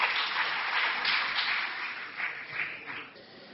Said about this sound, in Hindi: मैं आप सबसे आग्रह करूंगा कि तालियों की गड़गड़ाहट से उनका स्वागत करें